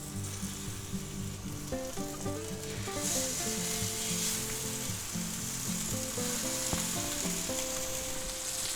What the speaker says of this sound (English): now we're going to sear those pork chops on that side